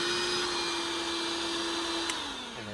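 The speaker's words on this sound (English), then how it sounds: "what's been saving me is the DeWalt 20 volt max vacuum" A DeWalt 20 volt max cordless vacuum runs steadily with a whining motor inside a 4x4 Sprinter van, then winds down near the end.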